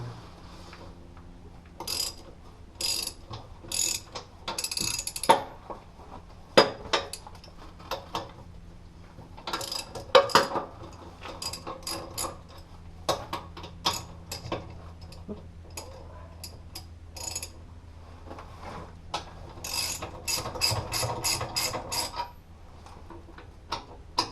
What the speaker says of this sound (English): Loosen up these, are 19 millimeters.